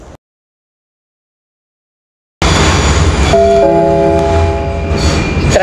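A Prague metro train's doors shut after a gap of silence; the motor then whines up in rising tones as the train rolls out of the station, loud and close.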